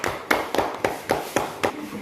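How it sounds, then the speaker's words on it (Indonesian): Classroom applause for a group of students: a run of sharp, evenly spaced hand claps, about seven in two seconds, fairly close and moderately loud in a steady rhythm. "tepuk tangan untuk kelompok ini"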